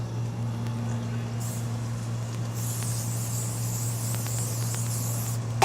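A spray bottle spritzes during cooking: short hissy bursts, the first brief and a longer sustained stretch after it, over a steady low electrical hum with no talking.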